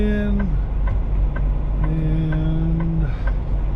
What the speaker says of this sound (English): But now we got another truck coming, trying to get in.